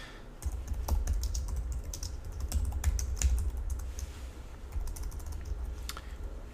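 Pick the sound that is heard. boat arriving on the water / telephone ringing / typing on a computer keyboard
typing on a computer keyboard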